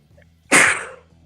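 A single sharp human sneeze, loud and close, bursting out suddenly and fading within half a second in an otherwise quiet room.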